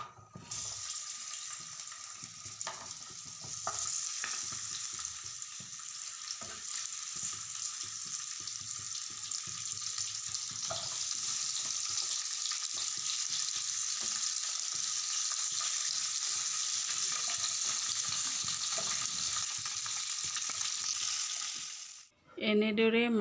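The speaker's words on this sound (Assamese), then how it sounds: "এতিয়া মাছখিনি ভালদৰে ভাজি ল'ম।" Fish frying in oil in a wok gives a steady, bright sizzle that holds for a long stretch, with occasional soft clinks and scrapes, before a brief louder clatter at the end.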